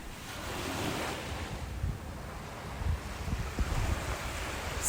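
Steady ocean surf rolls against the coast along the Whale Coast near Pearly Beach, a continuous wash of waves with gusty wind noise over the microphone and no voices.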